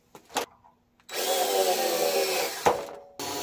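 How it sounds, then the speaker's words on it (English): Power drill with a 1/8 inch bit boring rivet holes in a vintage camper wheel well, a short burst followed by a steady two-second whine, then a brief restart, close up with no talk. "Got a 1/8 inch drill bit."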